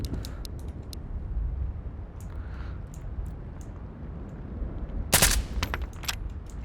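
Bursts of gunfire in the war game John Vostok: a rapid run of sharp cracks early on, then a loud cluster of shots later, set against a low rumbling background with no talk.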